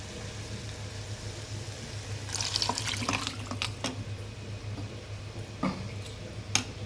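Water poured from a kitchen into a freshly blended tomato and cashew paste for cooking; a quiet, short splashing pour lasting about two seconds, followed by a few faint clinks, with no talking.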